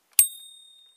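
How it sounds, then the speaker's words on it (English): A toy model bus from the Dinky, Corgi, Matchbox or EFE range gives a single bright metallic ding from its bell switch. The ring sounds close and clear, then fades into a thin ringing tail. "That's the switch where the bell rings."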